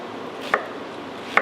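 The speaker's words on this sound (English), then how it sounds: "And cut up this second onion here." A kitchen knife cutting a second onion on a board while peppers cook, giving two crisp chops about a second apart over a quiet room hum.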